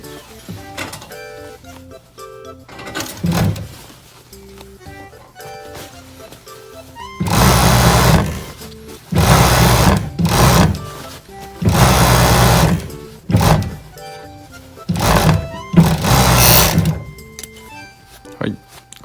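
An industrial sewing machine hems men's slacks in a tailoring alteration shop, running in several loud bursts of a second or two each, broken by quieter handling sounds and a person talking.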